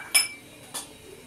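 Utensils clink against a bowl as roasted semolina is transferred into it: two brief, light metallic clinks about half a second apart, close by in a quiet kitchen.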